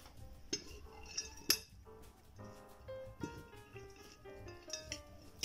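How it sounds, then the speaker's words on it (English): Cabbage, spring onion and green bell pepper being tossed together in a bowl: soft rustling punctuated by light clinks and pings of a utensil against the bowl, close and quiet, with no talk and faint background music. "I'm gonna just add in the cabbage that's been left over from the egg, and mix everything together"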